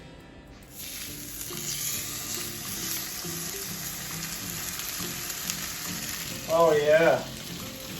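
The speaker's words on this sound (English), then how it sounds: "Let's see if you get that sizzle." A steak, JT's, lands in an olive-oil-slicked frying pan with a steady broadband sizzle that holds loud and even for several seconds, a brief brighter crackle near the end and a few quiet voices over it.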